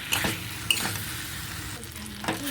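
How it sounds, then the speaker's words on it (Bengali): Prawns stir-fried in masala in a pan for a chingri-potol curry: steady sizzle under repeated spatula scrapes and stirs, close and moderate in level, no talk. "চিংড়ি মাছগুলো দিয়ে আরও এক মিনিট আমি খুব ভালোভাবে কষিয়ে নেব"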